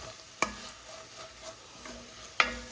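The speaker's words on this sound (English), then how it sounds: "we're just going to saute this a little bit" Vegetables sauté in a pot for chicken pumpkin curry soup, a faint close sizzle broken by two sharp clanks of a spoon against the pot, with soft stirring between.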